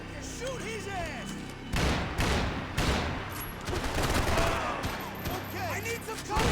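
Heavy gunfire in the video game Max Payne 3, with dense overlapping automatic bursts and booming shots close and loud, under and between spoken voices.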